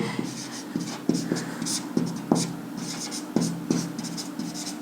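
Pen scratching out a line of notes during a classroom lecture, heard as repeated short strokes and taps with a small pause between each one, fairly close, while a voice faintly goes on in the background.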